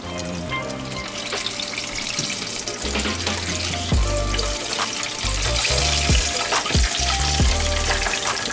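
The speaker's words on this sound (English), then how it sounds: "Now, your oil, you see it's bubbling." Chicken fries in bubbling hot oil in a home kitchen, giving a loud, continuous close-up sizzle with dense crackling and a few low bumps and knocks of handling.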